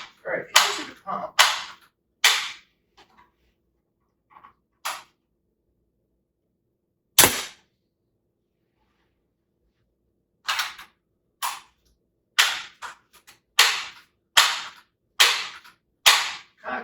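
A Ruger NGX pump air rifle fired repeatedly, each shot a sharp, dry, close snap with no echo, spaced irregularly at first, then coming in quicker succession, with silence between.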